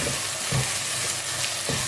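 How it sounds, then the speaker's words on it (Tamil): Tomato mixture sizzles and sautés steadily in a hot pan for tomato rice, close and constant, with no other sounds over it. "ரெண்டு கைப்பிடி தக்காளி குழம்பு நல்லா வதங்கட்டும்"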